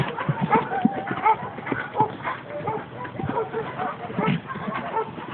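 A horse fitted with leg gaiters clip-clops along, its hooves striking in a quick, uneven rhythm at moderate distance, with faint background voices and hints of fowl.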